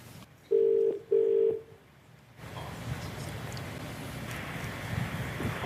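A telephone call being placed, with two short steady tones from the handset, then the line opens onto a hissy, noisy connection.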